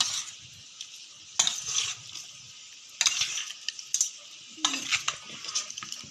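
A utensil scrapes and stirs through potatoes frying in a wok in several separate bursts, with a light sizzle underneath between strokes.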